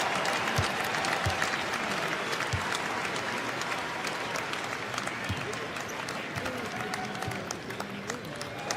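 An arena crowd at an NBA basketball game between the Washington Wizards and Milwaukee Bucks applauds continuously, a broad wash of clapping and crowd noise with a broadcast voice talking over it.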